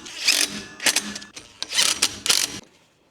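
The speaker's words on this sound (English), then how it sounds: "I'm going to tighten this side and we'll do the same adjustments on the opposite side." Ratchet clicks while bolts are tightened on a boom being added to a 65-gallon sprayer: several bursts of rapid metallic clicking separated by short pauses, close and clear.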